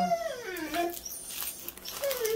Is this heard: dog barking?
yes